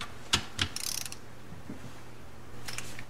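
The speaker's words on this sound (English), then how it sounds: "Just take it up to where it clicks. That's 12 foot-pounds." Sharp clicks of a torque wrench reaching its 12 foot-pound setting on the crankcase bolts of a 1973 Honda CB750, heard as two distinct close snaps followed by a burst of light ratcheting and another pair of clicks later, in a quiet workshop.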